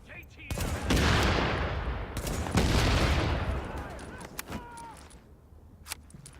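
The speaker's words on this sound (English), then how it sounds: "Beautiful explosion there." Blasts and gunfire ring out in the video game The Division, where a grenade explosion lands with a loud, broad roar that swells and fades, followed by a second burst and scattered sharp shots as it tails off.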